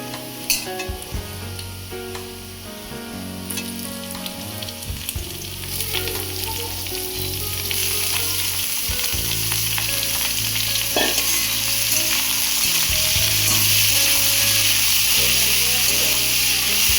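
Chunks of bottle gourd fry in a pan with a loud, steady sizzle and occasional stirring, the hiss building as it goes, with a low hum underneath.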